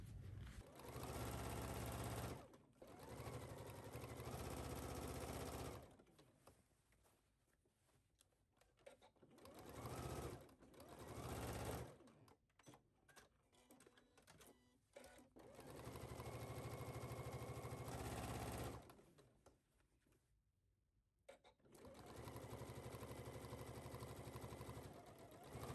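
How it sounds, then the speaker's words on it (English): A sewing machine stitches a pant leg seam at 3/8 inch allowance in several bursts of steady whirring, separated by quiet pauses with faint handling sounds. "you're going to sew this at 3/8 of an inch seam allowance at your machine"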